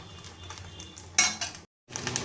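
An egg flipped and frying in a pan, with a spatula scraping and clinking against the metal in short bursts over a soft sizzle, briefly cut off by a silent gap before the scraping resumes.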